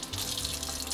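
Tap water runs briefly at a kitchen counter where pizza dough is being made, a steady close splashing stream lasting about a second.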